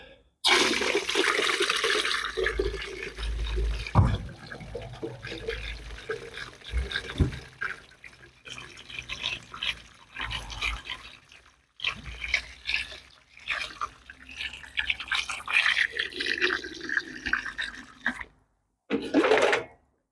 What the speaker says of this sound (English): so now we have water inside here